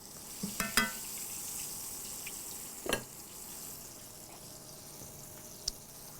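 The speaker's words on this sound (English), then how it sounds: "Pork chops are looking good over here. They're browning up." Pork chops browning in a frying pan for smothered pork chops, sizzling steadily up close, broken by a few utensil clatters early on, one near the middle and a sharp tap near the end.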